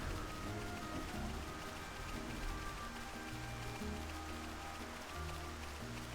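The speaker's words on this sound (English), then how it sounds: "because it's raining" Rain falls in a swampy area of Xenoblade Chronicles Definitive Edition, a steady broad wash of drops heard under continuous background music and low rumbling tones.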